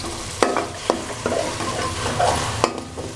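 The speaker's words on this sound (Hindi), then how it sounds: "ये मसाला भुन गया।" Tikka masala spice blend with a little black pepper roasting in a pan, with a steady close sizzle and several sharp scrapes and stirs from a spoon at irregular intervals.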